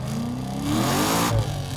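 A 720 HP C6 Corvette Z06 with a stroker engine accelerates hard, its deep engine note rising in a loud, close roar as the revs climb, with a brief shift near the end.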